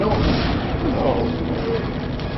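Cannon towers in the video game Defense Grid thump out steady booming fire, a loud, muddy rumble of repeated shots running throughout, with people talking over it.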